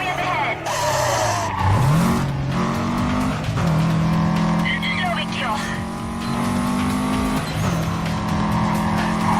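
Tires squeal and skid loudly as a race car revs and slides through corners in the Need For Speed Carbon racing game. The engine drones steadily under the screech, with voices heard faintly.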